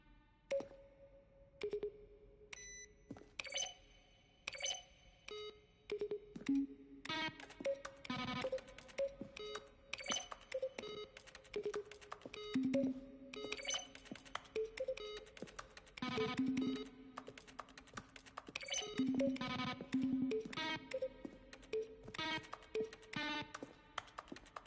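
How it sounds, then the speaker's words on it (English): Button presses from The Stanley Parable, each a keyboard keystroke blended with a synthesized beep tone, ringing out alone in a steady, irregular series of sharp clicks with brief tonal chimes over roughly twenty-five seconds. "Each sound is a mix of a keyboard stroke and a synthesized tone."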